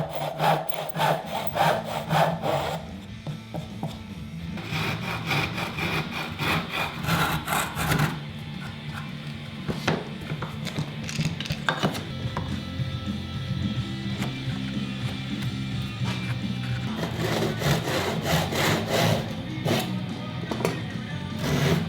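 Wooden crib slats are cut to size with a saw: long runs of rapid, rhythmic rasping strokes, loud and close, pausing briefly between cuts before starting again.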